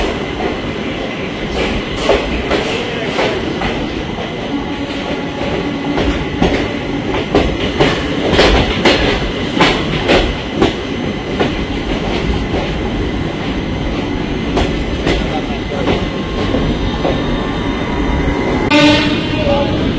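Steady rumble and rattling clatter inside a 3AC coach of the 13187 Maa Tara Express running from Sealdah towards Rampurhat, continuous and close, with faint voices in the carriage.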